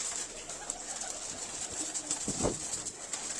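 Pigeons cooing on a rooftop loft among a flock of about eighty birds kept for sale, a low burbling coo rising briefly near the end over steady background hiss.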